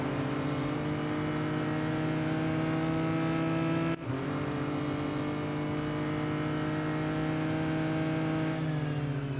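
A McLaren Artura GT4 races in Real Racing 3 with a loud, steady engine drone and one quick gear-shift dip partway through, joined by other cars in the race.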